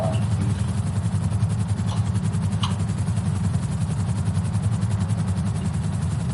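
A police helicopter in GTA roleplay hovers over a scene, a steady low rotor drone and engine hum continuing evenly throughout, fairly loud, with no talk.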